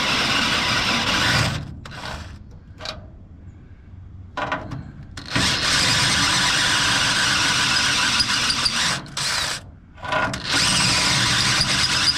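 Power drill with a dull step bit bores through metal on a vintage vehicle during fuel return line work: loud, close, sustained whirring and grinding, interrupted by several short stops and restarts.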